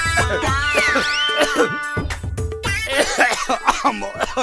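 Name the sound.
coughing after inhaling snuff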